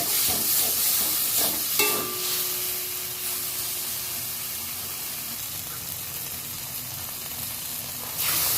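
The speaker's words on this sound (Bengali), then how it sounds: "এবার একটু ভালো করে নেড়ে ফেড়ে কষিয়ে নিতে হবে।" A paste of mustard, green chilli and garlic fries with okra in a pan, giving a bright, continuous sizzle while a spatula scrapes and stirs. A brief clatter near the start and a louder burst of sizzling at the end.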